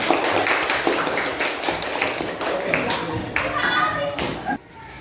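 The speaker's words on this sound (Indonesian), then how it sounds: "Oke, berikan aplaus untuk kelompok." Classroom applause for a student group that has just finished its presentation, a few seconds of scattered clapping and tapping from children, fairly close, mixed with kids' chatter, ending abruptly.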